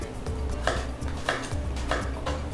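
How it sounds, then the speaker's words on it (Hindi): A big, thick mooli radish is being chopped for aloo mooli sabzi, four sharp knife strikes landing on a board at a steady, roughly even pace, close and fairly loud over low background noise. "मूली काट ली हमने, एक मोटी बढ़िया बड़ी वाली मूली ली और वो हमने काट लिया"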